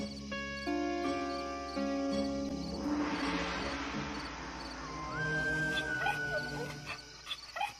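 A hungry mother dog whimpers and whines in drawn-out, rising cries, near and fairly faint over some background noise.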